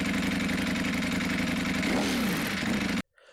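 An Aprilia 1000cc motorcycle engine runs steadily and close, a thrumming mid-pitched drone with a brief rev rise near the end before cutting off abruptly.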